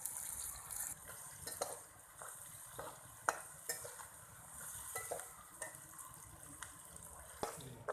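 Onions sizzle and crackle in hot oil while being stirred until light brown for chicken biryani, with scraping taps of a spoon against the pan, fairly quiet and close.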